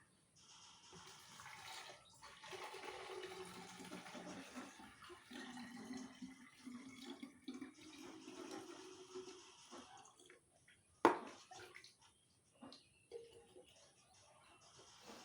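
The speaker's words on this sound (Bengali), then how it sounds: "এখন আমি এই বোতলগুলির মধ্যে জলটা ভরে নিচ্ছি" Water pours from a tap into a row of bottles one after another at home, a steady running splash with shifting pitch as each fills, moderately close, followed by a sharp clunk and a few quieter handling sounds.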